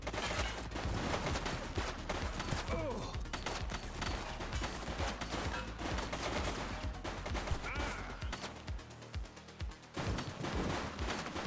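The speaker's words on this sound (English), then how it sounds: "He's shooting!" Sustained automatic gunfire rattles through a police action game, The Precinct, as a fleeing suspect in a red jacket shoots, with dense overlapping bursts and brief pauses over busy street ambience.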